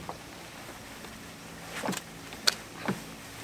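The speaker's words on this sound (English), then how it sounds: "I'm able to open up my car door without any issues" A car door is opened by tugging a coat sleeve threaded through the handle, giving a few soft clicks and clunks of the latch and door spaced across a quiet background.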